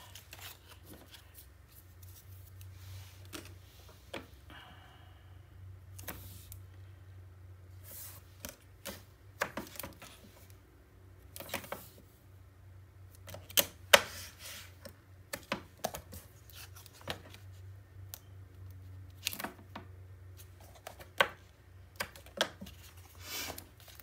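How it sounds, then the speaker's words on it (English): Tape being pulled and pressed onto paper pieces of a handmade mini album: scattered faint crinkly snaps, rips and taps spread irregularly over a quiet room, with no talk. "first I need to put tape on it"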